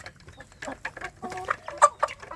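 Free-range village chicken chicks cluck and peep close by in short, scattered calls, a busy flock chattering with no talking.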